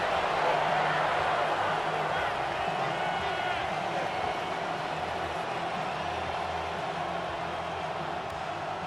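A stadium crowd in a Madden football video game roars as a steady, dense wash of noise late in the fourth quarter, loud and continuous, with a commentator's voice talking over it.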